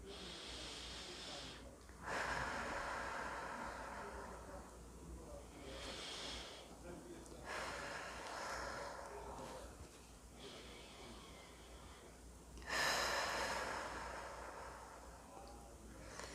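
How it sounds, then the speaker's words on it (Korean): Slow, deep breaths drawn in through the nose and released through the mouth during a guided stress-relief exercise, three long, soft, airy cycles, quiet and close with pauses between. "코로 숨을 들이마시고 입으로 천천히 내쉬고"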